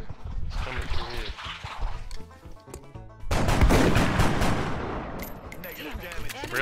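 Shotgun blasts and other gunfire in the strategy game XCOM Enemy Within crack out in loud, dense bursts, with one heavy volley at the midpoint and a rumble that trails off afterward.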